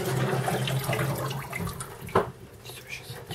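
Kitchen tap running into a sink clogged with fish fat, a steady broadband water flow with a brief louder splash near the end, heard close up.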